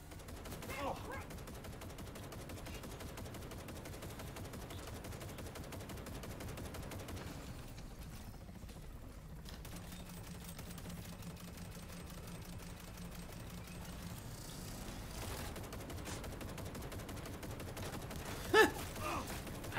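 Rapid gunfire in the video game Cyberpunk 2077, a steady, fairly quiet mechanical rattle of shots running through the whole stretch, with a couple of sharper bursts near the end.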